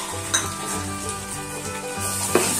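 Green chillies sauté in a pot for turkey dum biryani, giving a soft sizzle under a low hum, with a couple of sharp metallic clinks of a spoon against the pot.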